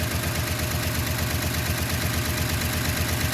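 A 1969 Chevrolet C10 engine idling as it warms up, with fuel being fed by hand from a bottle, a steady close rumble with an even, slightly rough pulse throughout.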